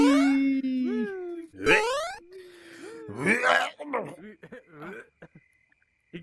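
Harsh coughing and throat-clearing fits over VRChat voice chat, with strained, wailing vocal sounds, close and loud, then several short gasping breaths trailing off.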